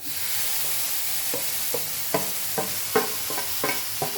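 Grated tomato sizzles in a hot pan over a medium flame for paneer curry, with a steady frying hiss under a series of rhythmic spoon scrapes as it is stirred.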